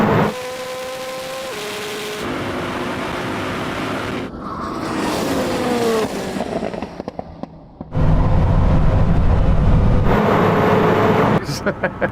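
Koenigsegg Jesko and Bugatti Chiron Super Sport hypercars in a rolling drag race, loud engine roar rising through gears with shifts and a sharp crackling burst midway, then a renewed full-throttle surge, close and sustained.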